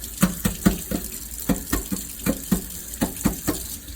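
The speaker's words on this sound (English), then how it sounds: "then I'm going to do another egg, just run it under the cold water" Cold tap water runs over a boiled egg in a kitchen sink, splashing in a quick, uneven patter of bursts as the egg is turned under the stream. The sound is close and moderately quiet, with no talking.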